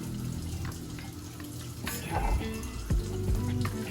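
Sliced sausage rendering and frying in a pot for Zuppa Toscana, with a constant crackling sizzle and a few clattering stirs and knocks of a utensil toward the end.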